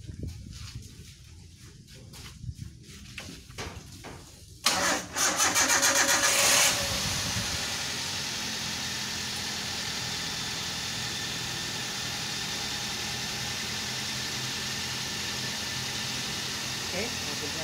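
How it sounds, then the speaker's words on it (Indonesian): A Toyota Avanza engine cranks with quick rapid clicks, fires up loudly, then settles into a steady idle that runs on to the end. "Oke, mobilnya sudah hidup, sudah rame, kita matikan."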